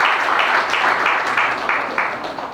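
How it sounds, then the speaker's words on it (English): Conference audience applauding at a climate change event, a steady, dense wash of clapping from a crowd that carries on without a break and swells slightly in waves. "I thought you deserved a round of applause."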